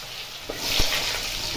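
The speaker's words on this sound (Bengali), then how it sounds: "আলুগুলোকে তেলে দিয়ে দিলাম, একটু ভেজে নেবো" Diced potatoes go into hot oil in a pan and set off a brief hiss and sizzle that settles into steady, fairly close frying.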